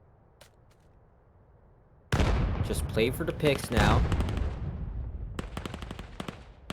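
Rapid bursts of automatic gunfire from the VR shooter Vail VR, during a 5v5 competitive match, erupt loud and close after a quiet start, with a commentator speaking over the shots.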